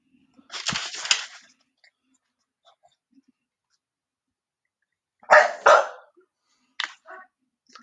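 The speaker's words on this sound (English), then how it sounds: "Sorry, my dog's a little excited." A pet dog at home gives a few short, excited barks in separate bursts, close to the microphone, with quiet gaps between them.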